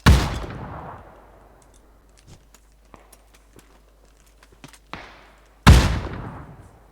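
Gunfire in a video game: a loud booming shot, a stretch of scattered clicks and small impacts, a sharper crack, then a second heavy boom near the end.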